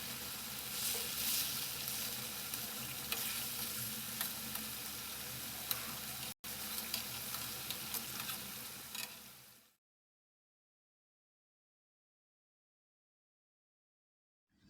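Tomatoes frying in a pan for a restaurant-style Shinwari chicken karahi, giving a dense, even sizzle for about ten seconds before it suddenly cuts to silence.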